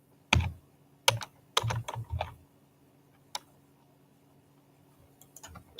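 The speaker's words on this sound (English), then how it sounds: "I can just type in ice raids." Fingers tapping a computer keyboard in a few quick clusters of clicky keystrokes, close and fairly soft, with a lone tap and a brief pause before a last burst.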